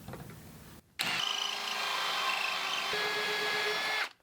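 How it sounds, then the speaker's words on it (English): A power drill whirs loudly for about three seconds after a brief pause, its pitch dropping slightly partway through as it bites while cutting a larger hole over a smaller one, then stops abruptly. "It's just going to drill through this."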